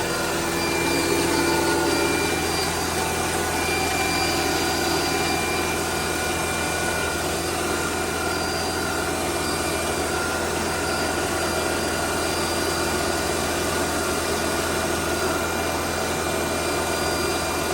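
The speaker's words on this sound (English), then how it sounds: "Started the engine." A 2003 Mercedes-Benz C240 (W203) engine idles with a steady, loud drone, constant hum and whine, running unchanged throughout with no talking.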